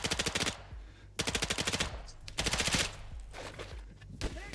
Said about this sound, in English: the MP7's lack of recoil makes me happy